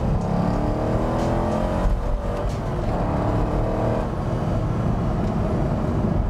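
A Corvette C5 Z06 engine revs hard and climbs through the gears, loud and close, with a brief dip between shifts and no talking.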